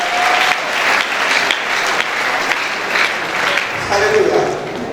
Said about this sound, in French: Est-ce qu'on peut acclamer encore une fois le roi de gloire?